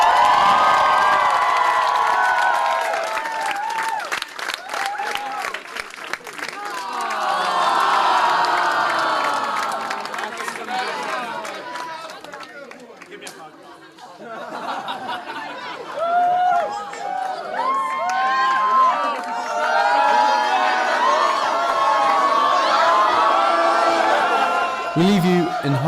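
Students at a Model European Parliament closing night in Norwich cheer loudly as a crowd, with whoops, shouts and claps swelling and dipping in waves over about 26 seconds, close and energetic throughout.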